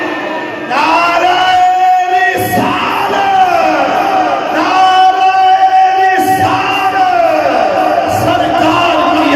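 Large crowd at a religious gathering answering the Nara-e-Takbeer call, a leader's shout followed by a massed chanted reply, repeated in loud, echoing waves with amplified voices.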